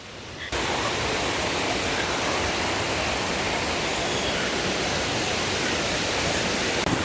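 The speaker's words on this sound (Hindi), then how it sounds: "पहुंच गए हैं हम क्रांगसुरी वाटरफॉल में।" Krang Suri waterfall in Meghalaya, a dense, constant roar of falling water that starts abruptly after a brief quiet moment and holds steady and loud, with no voices.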